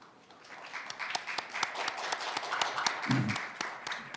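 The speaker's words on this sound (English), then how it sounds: "please welcome him with a warm round of applause" An audience greets a speaker at a formal conference with a moderate round of clapping, fairly distant, with dense hand claps and a brief low thump partway through.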